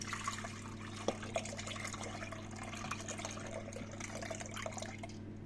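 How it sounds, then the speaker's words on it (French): 750 millilitres of milk pour steadily into a pan for a flan, a soft continuous liquid stream over a low background hum, with no one speaking. "je vide les 750 millilitres de lait."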